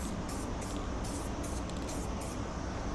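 A steady, continuous hiss of a spray paint can, close and loud, with slight sputtering pulses in the upper hiss as the can spits, no voices.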